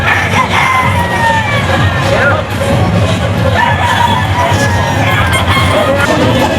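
Gamefowl roosters crow repeatedly at a breeders' booth at a gamefowl expo, over a noisy crowd, with shouting and chatter around them and several crows overlapping at moderate distance.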